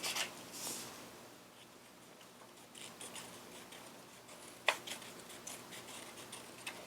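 Scissors cutting paper along a drawn circle, quiet close snips and rustling crackles in an irregular rhythm with one sharper snip partway through, over faint background hum.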